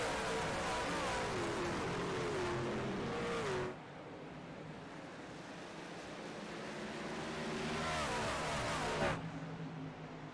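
Race trucks in the iRacing game at Bristol Motor Speedway, engines droning and shifting pitch as they run by, a loud pack roaring through then fading before building again.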